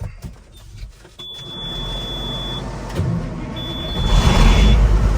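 A Peterbilt semi truck used at harvest cranks and fires up, its engine rising into a loud, rumbling idle that grows heavier toward the end, with faint high tones and no talk.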